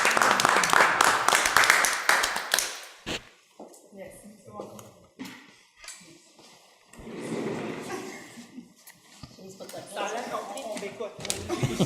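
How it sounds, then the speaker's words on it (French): Attendees at a regional county council meeting in Rocher-Percé burst into close, dense applause that fades after about three seconds, followed by people talking and some shuffling. "On peut applaudir, j'avais applaudi"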